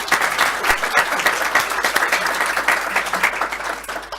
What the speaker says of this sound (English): if we could just give a round of applause,